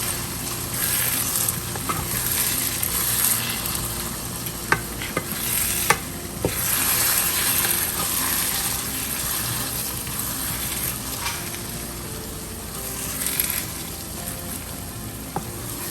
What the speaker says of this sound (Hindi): दाल डालने के बाद हम इसको अच्छी तरह से मिक्स कर लेंगे।